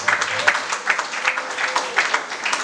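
An audience at a regional workshop closing ceremony claps in a scattered, moderately sized round of applause, steady with uneven peaks and no voice over it.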